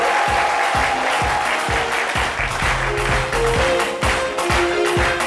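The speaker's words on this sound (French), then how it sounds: "c'est sous vos acclamations que nous allons maintenant l'accueillir sur notre plateau" Studio audience on a French midday TV talk show applauding as a guest is welcomed onto the set, dense continuous clapping with rhythmic low thumps of music running underneath, loud and close.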